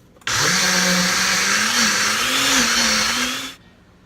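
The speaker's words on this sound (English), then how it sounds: "you're going to put it on your blender, and this is gonna go pretty fast" A blender blending hummus whirs steadily for about three seconds, its motor pitch rising slightly as it runs, then cuts off abruptly.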